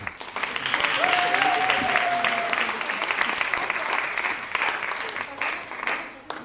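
Loud, dense audience applause after a school theatre performance and post-show discussion, rising quickly and holding steady before tapering near the end, with a faint voice briefly audible underneath.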